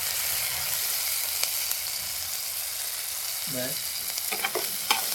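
Onion, garlic and masala sizzle steadily in a hot pan for an egg bhurji, with a spatula scraping and stirring in a few sharp taps near the end, and a brief word spoken quietly.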